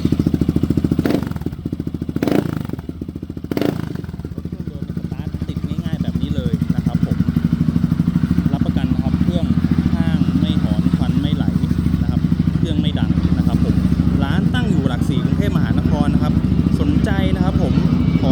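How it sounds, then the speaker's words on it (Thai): A stock-engine SP motorcycle from 2021 with about 14,000 km runs close by. A few sharp knocks come first, then a loud, steady idle continues throughout. "เดี๋ยวลองมาฟังเสียงเครื่องยนต์ดูสักนิดนึงนะครับ"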